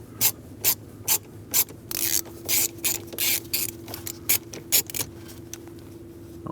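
A ratchet clicks in short, even bursts while loosening the bolts that hold the ignition switch on a Dodge Ram 2500, with about a dozen close, crisp bursts of clicking over a faint steady hum.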